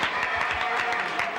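A studio audience at a 1969 television talk show claps in a dense, steady burst of applause that fills the whole short moment with no speech over it.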